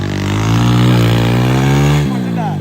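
A tractor engine revs hard while stuck on a slope, a loud, steady harmonic roar that climbs in pitch and then drops near the end, with people talking over it.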